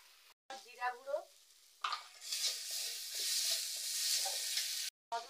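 Spice paste of ginger paste, salt, turmeric, chili and cumin powder sizzles and fries in a pan, with a steady loud hiss and stirring scrapes that briefly cut out near the start and the end.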